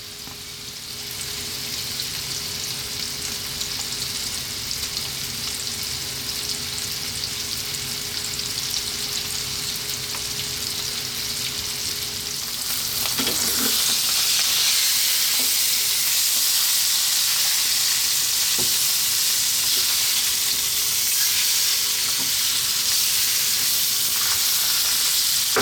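Salmon fillets fry on medium heat for an Indian fish masala, giving a loud, steady sizzle and hiss that swells about halfway through, with a few faint clicks and scrapes from the pan.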